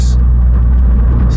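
Engine of a 300hp S3-engined MK2 Golf GTI holding at its torque cap, a loud steady low rumble under a driver talking.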